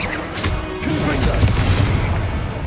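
Confringo blasting spell explosions in Hogwarts Legacy, a dense run of booming blasts and crackling impacts sustained throughout with game effects layered over a low rumble.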